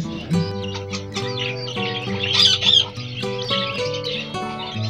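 Pet java sparrows and finches chirp while eating live worms, giving bright, close little calls over a steady backdrop of music.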